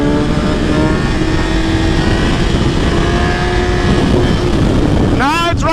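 A motorcycle engine running low on fuel drones steadily and loudly from start to finish, with a rising whine near the end as it revs.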